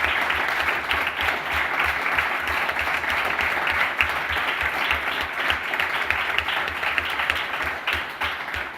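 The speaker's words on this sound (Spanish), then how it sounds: "Por eso quiero pedir un aplauso para Rafa, para Pam, para Yolanda y para Ton" Dense applause fills a political rally hall, steady and loud throughout with crowd noise blended in, no speech over it.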